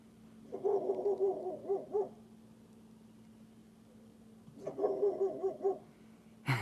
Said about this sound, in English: You can actually hear the dog part of it. You know what I'm saying? That's a dog.